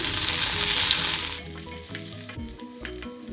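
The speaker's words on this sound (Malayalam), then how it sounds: "എന്നിട്ട് ഇതെല്ലാം ഒന്ന് വഴറ്റി യോജിപ്പിക്കാം." Curry leaves and three Kashmiri chilies sizzle loudly in hot oil in a pan, and the hiss fades after about a second to quieter frying with a few stirring clicks.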